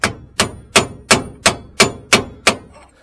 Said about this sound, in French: Hop, mon nouvel outil et mon marteau.